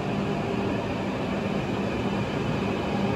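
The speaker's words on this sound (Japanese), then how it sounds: "列車やってきました" Steady broadband rumble of a train rolling into Tsuruga Station, a constant loud roar without distinct clacks and no talking.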